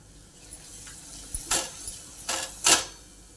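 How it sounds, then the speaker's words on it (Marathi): Coriander and cumin powder, with a little chili powder, sautéed in a pan: a faint sizzle under a few scattered clinks and scrapes of a utensil against the pan, the louder knocks coming toward the end. "धण्याची पावडर आणि थोडीशी जिरी पावडर आता हे आपण चांगलं परतून घेऊ"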